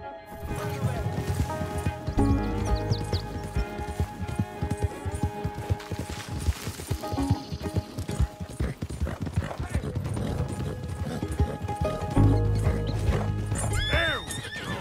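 A horse in Red Dead Redemption 2 clip-clops along and lets out loud whinnies, the hooves knocking in uneven runs while characters speak over parts of it and faint music plays underneath.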